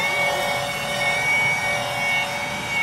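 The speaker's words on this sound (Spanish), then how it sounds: "esto es una máquina rotativa" Rotary polishing machine running steadily at low speed on an automotive paint finish, a continuous whirring drone with a faint high whine, close and alone with no talk.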